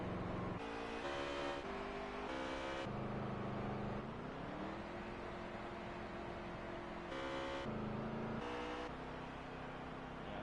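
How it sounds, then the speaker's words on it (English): A race car at Richmond in the Outlaw Series rolls down pit road, its engine droning steadily at moderate distance with shifting pitch as it slows and revs, other engine tones rising and falling behind it. "Another car coming in pit road."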